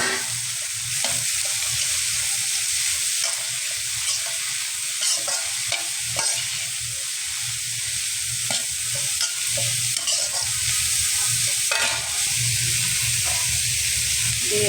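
Cabbage, cut into large pieces, is stir-fried with vegetables for fried rice, a continuous close hissing sizzle broken by frequent scraping stirs of the spatula.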